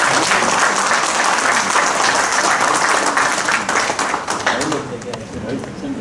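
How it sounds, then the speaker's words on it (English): Applause at a fire and security association conference for the pharma sector, dense steady clapping from the dais and audience that gradually thins and fades near the end. "The applause of the dais is louder than the audience."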